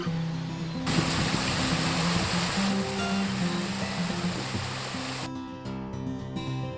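Rushing water roars steadily, a broad continuous wash like a nearby waterfall, with faint tonal hum layered underneath.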